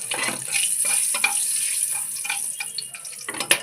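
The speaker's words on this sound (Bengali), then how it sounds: "লবঙ্গগুলো ফাটছে" Whole spices and cloves crackle in a little hot oil in a kadai while prawn malai curry is made: a steady sizzle with scattered pops and spits, close and moderately loud, with no talk.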